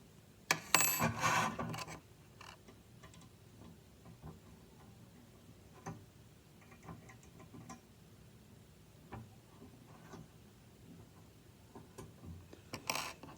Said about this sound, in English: Use the long skinny hex driver to tighten that.